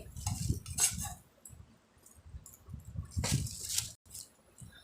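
Food being stirred in a pan with a utensil, soft wet squishing and occasional light clinks in a few uneven bursts, close and quiet, with no talk.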